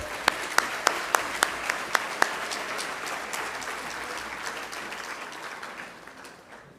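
Audience applause at a 4-H awards banquet, a steady crowd clapping with a few loud, sharp claps near the front early on, gradually thinning and fading away.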